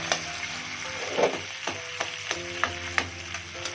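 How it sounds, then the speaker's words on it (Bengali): A fish head fries crisp in hot oil in a pan while being pressed down, giving a steady sizzle broken by repeated sharp crackles and scraping taps at an uneven rhythm, close and clear, with no talking. "একদম মুচমুচে করে মাছের মাথাটা ভাজতে হবে"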